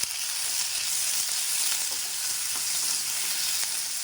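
Sliced onion, tomato and green chilies sautéing in a pan for an eggplant curry, a steady bright sizzle with faint stirring scrapes, close and continuous with no talking.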